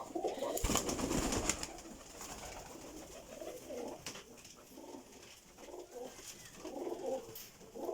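Pigeons in a high-flying pigeon breeding setup of many pairs coo softly and repeatedly, low rolling calls rising and falling over a faint background hum, with no talking.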